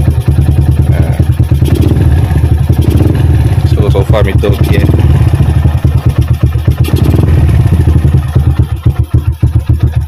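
Yamaha LC135 motorcycle engine running steadily after being started, a loud close idle with rapid regular firing pulses and some clatter throughout, while someone talks over it.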